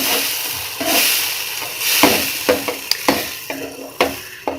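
Milk is stirred into cooking rice for mutanjan, a sweet rice dessert, with a soft sizzling hiss and a series of sharp spoon scrapes and taps against the pot, close and steady without talk.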